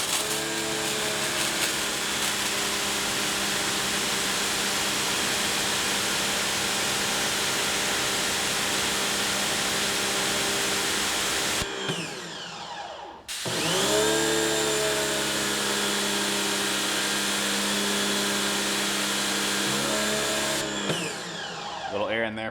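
A SunJoe SPX3000 electric pressure washer runs with a loud, steady motor whine and spray hiss, briefly dropping out near the middle before starting up again for several more seconds.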